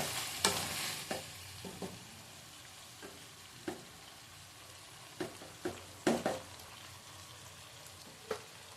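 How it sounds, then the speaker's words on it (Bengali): Curry spices sautéed in oil sizzle softly in a pan as water goes in, with scattered sharp scrapes and splashy bursts from stirring over a low, steady fry. "এবার আমি জল দেবো।"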